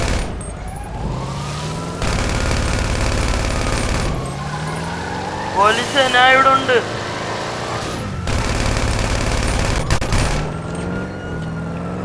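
Bursts of rapid gunfire and a police siren fill a video game shootout with police, with a player talking over the shooting and sirens in the moments between volleys.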